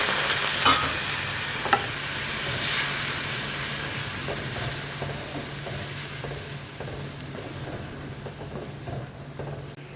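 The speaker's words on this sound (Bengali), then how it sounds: "এই যে অল্প একটু তেলেতে মশলা জিরে ফোড়ন দিয়ে একটুখানি এটাকে নেড়ে নিচ্ছি" Cumin seeds tempering in a little oil, a continuous soft sizzle and hiss with occasional light stirring clicks, close by and with no speech.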